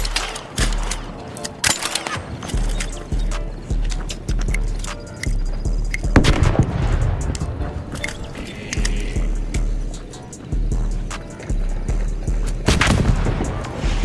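Gunfire in the video game ARC Raiders, with repeated sharp shots and bursts over a low rumbling game soundscape, alongside scattered impacts and footstep-like clatter.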